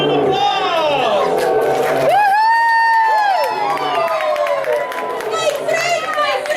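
Children at a vacation Bible school puppet show shout and cheer loudly for a bear puppet, high excited voices overlapping in a continuous crowd din, with chatter and an adult voice mixed in.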